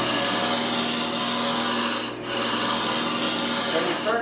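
A wooden kaleidoscope cylinder is turned on a lathe, a loud continuous rough scraping and rasping of the tool on wood with a steady motor hum and one brief dip midway.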